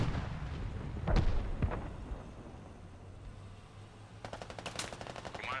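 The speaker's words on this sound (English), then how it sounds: "We have enemy mortars." Enemy mortar rounds in the Squad video game, a couple of heavy booming impacts early on, then a rapid burst of sharp crackling gunfire near the end, with no talk.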